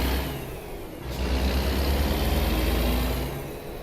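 A Kenworth W900 truck engine in a truck driving video game gives a deep, steady rumble that swells slightly as it revs, running loud and continuous throughout with no one talking.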